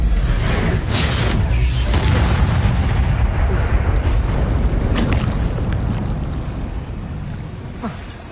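Incendio fire spell cast in the video game Hogwarts Legacy, a loud whooshing burst of flame with booming rumble, followed by roaring fire that slowly fades.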